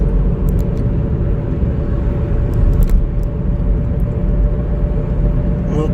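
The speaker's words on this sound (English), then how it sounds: "Oh God, a car coming up behind me, mighty fast, mighty close." Loud, continuous road rumble of a car driving up fast and close behind, heard from inside a moving vehicle, steady throughout with a few faint clicks.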